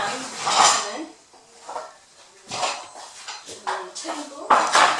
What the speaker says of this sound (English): We're going to get some cake cases, and I'll get the cake pan in.